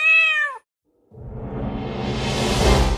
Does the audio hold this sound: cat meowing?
yes